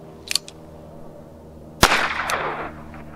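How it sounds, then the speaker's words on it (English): A rifle fires a Federal .22 LR bird and snake shotshell at a target 12 feet away, giving one sharp, loud crack with a brief trailing decay outdoors, preceded by a couple of faint clicks. "I'm going to shoot the Wrangler at 12 feet"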